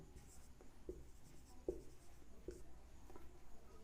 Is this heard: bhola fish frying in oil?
no